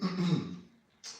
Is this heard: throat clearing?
yes